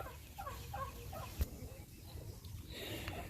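Turkeys on an Oklahoma homestead gobble in quick rattling bursts, moderately close, over a rough outdoor background with a brief thump; no speech.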